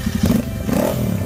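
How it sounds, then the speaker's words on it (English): Custom Royal Enfield Interceptor 650 cafe racer with aftermarket exhausts, a steady loud low engine growl with a rough, throbbing texture, close up and continuous. "The Diablo 650 gets a new set of exhausts that makes a growling sound when pushed."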